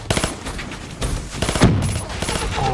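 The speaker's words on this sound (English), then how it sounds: "I can still hear him firing away with his little nail gun" Rapid popping bursts from a nail gun fired in a shooter video game, a quick run of sharp repeated shots in close succession with some layered game noise.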